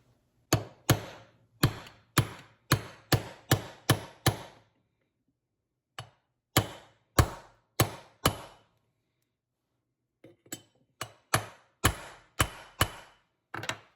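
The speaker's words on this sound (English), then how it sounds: "Again, just using a socket to pound these in." Metal fuel pump parts being pounded into place with a socket during a rebuild of a 1955 Ford Thunderbird Y-block fuel pump: sharp, close hammer-like knocks in quick bursts of several strikes separated by short pauses.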